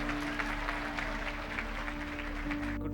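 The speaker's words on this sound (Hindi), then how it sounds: "तालियां जोरदार जरा।" Audience at an academy talk clapping to welcome a guest speaker, steady moderate applause with a faint hum underneath, fading at the end.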